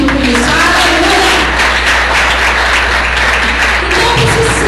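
A church congregation applauds during a Portuguese-language service, a steady, loud wash of clapping that holds evenly throughout with a constant low hum beneath.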